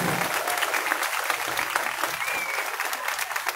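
Audience at a Christmas event opening in Batatais applauding, dense steady clapping from a crowd for a few seconds, fairly loud with a few faint voices mixed in.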